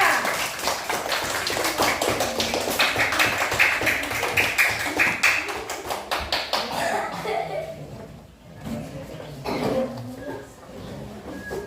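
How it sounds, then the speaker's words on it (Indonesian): A group claps at a classroom or workshop discussion session, sustained crowded applause for several seconds before fading into voices talking. "Kasih dulu tepuk tangan yang meriah untuk kelompok 3"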